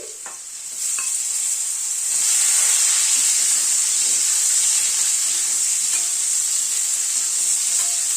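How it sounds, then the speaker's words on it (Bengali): Potatoes and kohlrabi fry in a pan with a loud, steady sizzle, punctuated early by a few scraping stirs of a utensil before the hiss settles into a constant roar. "আলুটাকে একটু 1-2 মিনিট একটু নাড়াচাড়া করে নিলাম। তারপরে ওলকপিটা দিয়ে দিচ্ছি।"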